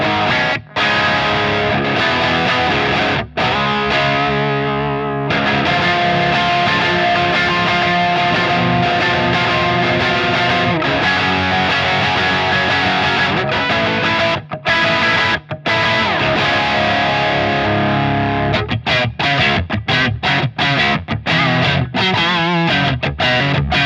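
Stratocaster through a Revv Generator 120 MKII amp on channel 3 with gain at halfway and the bright, contour and fat switches off: loud, dense distorted riffing with chugging chords and short choked pauses.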